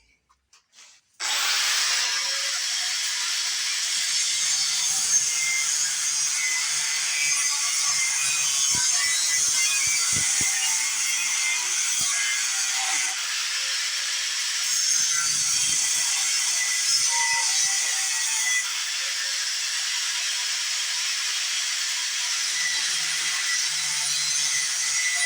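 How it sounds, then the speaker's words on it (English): A power drill bores holes in a metal transmission bracket extension for an LS-swapped Buick, starting with a few faint clicks and then running as a loud, continuous, unbroken whine for more than twenty seconds with no talking. "I think I'll get my drill first and I'll drill my holes and oblong them"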